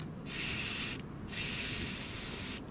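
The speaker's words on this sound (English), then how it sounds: "you just spray some of the paint" Paint spattered from a big brush onto a Logitech G Pro Wireless gaming mouse gives two close, steady bursts of airy hiss, each under a second long and split by a short gap.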